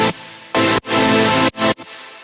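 A raw, unprocessed melodic dubstep synth preset plays in loud sustained chord blocks, cut into several bursts with short gaps, alone with no voices.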